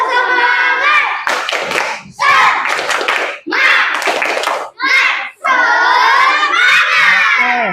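A classroom of children shouts a rhythmic clap chant together, with bursts of sharp hand claps between loud unison voices, close and energetic.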